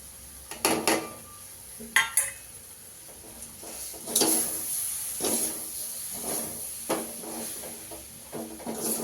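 Roasted ground rice powder is stirred into a brinjal stir-fry in a pan, with a spoon scraping and clanking against the metal in repeated bursts over a steady frying sizzle, close up and without talk.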